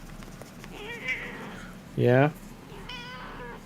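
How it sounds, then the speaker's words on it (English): A pet cat named Spatio, held in someone's arms, gives a short loud meow in the middle, with soft talking and higher mewing voice sounds around it. "I have the great cat Spatio in my arms."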